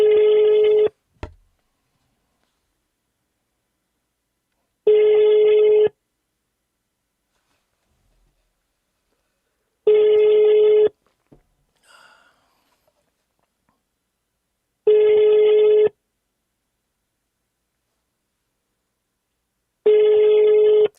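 Ringback tone on an outgoing telephone call, a steady electronic ring lasting about a second that repeats five times at even five-second intervals, with silence between and a faint click early on.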